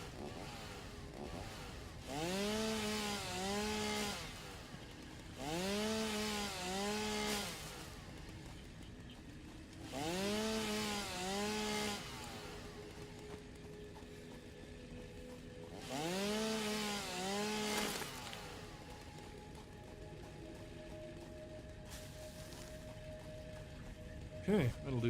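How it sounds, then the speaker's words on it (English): A chainsaw in the video game Satisfactory cutting through wood, revving in four or five long bursts with rising and falling whine and quieter pauses between, while a person talks over it. "Chainsaw some shit."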